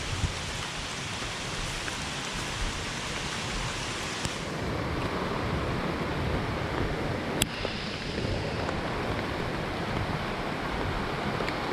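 A rushing brook running unusually high along a trail, a steady broad roar of churning water, loud and constant throughout with no voices.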